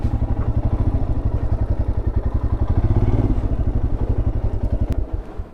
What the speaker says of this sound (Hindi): बाइक खड़ी कर दिया यहाँ पे